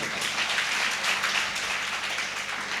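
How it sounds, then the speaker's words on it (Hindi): A gathering at a company meeting applauds a leader; the clapping is soft and fairly distant, a steady patter of many hands lasting under three seconds, with faint voices mixed in. "मैं चाहूंगा रवि सर के लिए जोरदार ताली सर"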